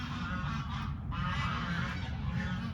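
Geese honk continuously in a noisy chorus on a permaculture farm, a dense flock calling close by with no talk over it.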